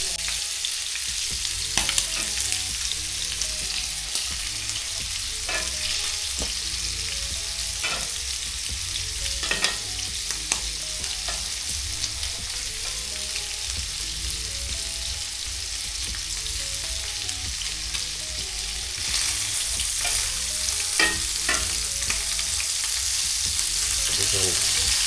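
German sausages and bacon frying in a pan, giving off a steady crackling sizzle with scattered pops. It grows slightly louder toward the end, with no talking.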